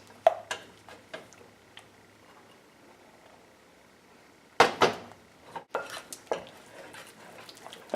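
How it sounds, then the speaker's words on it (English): Lemon pound cake batter is mixed in a bowl, with intermittent utensil clinks and taps against the bowl, a quiet stretch, then a louder burst of scraping and knocking near the end. "slowly mix all 3 ingredients together, a little at a time"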